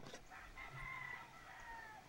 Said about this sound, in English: We were awakened rather by roosters in the tree.